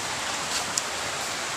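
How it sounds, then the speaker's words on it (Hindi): Heavy rain falling steadily outdoors as a dense, even hiss with no breaks, moderately loud and close, with no talk. "बहुत तेज़ बारिश।"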